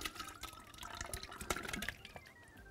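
Carrot cooking water is poured into a pan with boiled carrots for an Egyptian kishk and carrot sauce dish, making a steady close splashing and trickling that lasts a few seconds.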